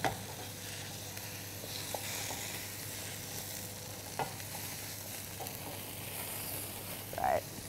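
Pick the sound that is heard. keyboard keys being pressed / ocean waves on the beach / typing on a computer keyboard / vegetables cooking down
vegetables cooking down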